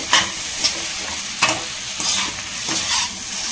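Coconut mixture with beetroot being stirred in a pan, soft sizzling under a few distinct scraping strokes of the spoon, close and moderately loud, no talk.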